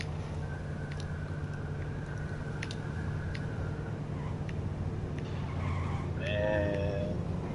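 A car in the video game H1Z1 drives with a steady engine drone, with tire noise and skidding rising toward the end while people talk over it.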